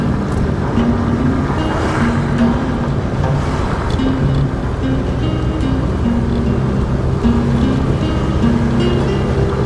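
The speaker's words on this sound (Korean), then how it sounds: "여 밑에는 파도 많이 치." Rough sea surf below a coastal spot on Bogildo island near Haenam, a constant loud wash of breaking waves mixed with a steady low engine drone, likely from a boat, with no clear individual wave crashes.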